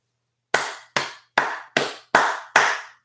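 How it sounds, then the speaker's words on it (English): Six sharp hand claps ring out alone in a steady, evenly spaced rhythm, each a crisp close slap with a short decay, following a half second of silence; part of a stand-up comedy routine. "You had to clap."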